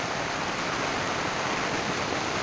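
Heavy monsoon rain falls in Mahabaleshwar, a dense, even wash of hiss with no break and no talking.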